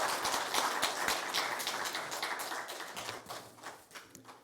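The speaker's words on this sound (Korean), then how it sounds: "우리 다 같이 박수를 치면서" A church congregation claps together in a dense, fast burst of applause at an ordination service, steady at first and thinning out toward the end, heard from a short distance.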